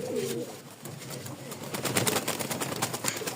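Cream-coloured, crested, feather-footed Rajshahi Giribaj pigeons in a cage coo softly and repeatedly nearby, with scattered light taps and rustles around them.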